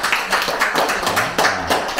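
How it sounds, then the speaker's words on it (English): A small audience at a land deals class applauds, a dense run of close, steady hand claps lasting a couple of seconds, with no talking over it. "So please give a round of applause to all of you guys."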